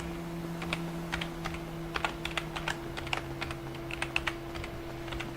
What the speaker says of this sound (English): I be clicking the fuck out this keyboard